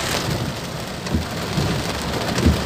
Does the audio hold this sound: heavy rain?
yes